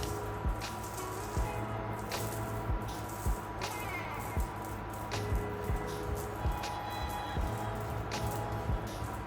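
Pig-bristle defoaming roller worked back and forth over bubbly FRP resin on a DIY camper build, giving a wet, crackling squish with regular soft strokes close by.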